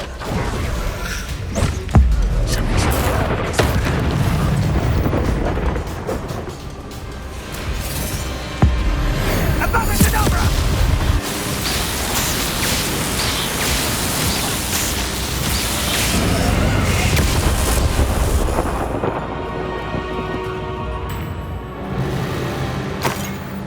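Bombarda spell blasts in the Hogwarts Legacy video game, loud booming explosions and heavy thuds rolling over a dense, continuous battle din for the whole stretch.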